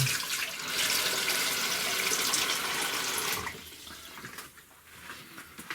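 Water pours steadily over green tomatoes being pickled with salt, a loud continuous splashing stream that stops after about three and a half seconds, leaving quieter trickling and drips.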